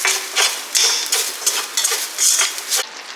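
Spices with chili powder dry-roasting in a pan for village-style mutton gravy, a rhythmic series of close, bright scrapes and rattles as a spoon stirs and tosses them, repeating roughly every half second.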